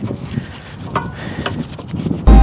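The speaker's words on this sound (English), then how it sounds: "Now is the perfect time as well, just to give the fuel filler cap a good clean." A car's fuel filler cap being scrubbed clean during a winter car wash, with short rubbing strokes repeating at close range and a sudden loud burst at the very end.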